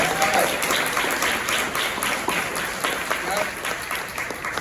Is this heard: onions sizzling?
no